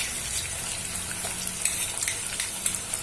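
Asafoetida and chili-ginger paste fry in hot oil while an egg biryani is being made, giving a steady close sizzle with small crackles and a couple of sharper pops, no voices.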